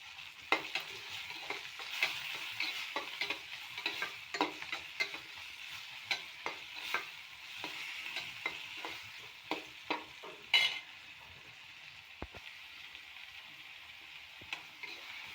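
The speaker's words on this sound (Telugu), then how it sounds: "సాల్ట్ వేసుకున్న తర్వాత కొంచెం టమాటా అయితే తొందరగా వేగిపోతుంది" Tomatoes seasoned with salt fry and sizzle in a pan, with steady crackling under repeated scraping stirs from a spoon, close and moderately loud, no talking.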